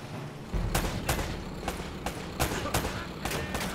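Gunfire in Uncharted: Drake's Fortune, a string of sharp shots landing about every half second, loud and close over a steady background rumble.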